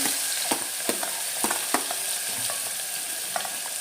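Onions and potatoes fry in hot oil with cumin, asafoetida and turmeric, a steady close sizzle broken by sharp scrapes and clinks of a spoon stirring the pan at uneven intervals.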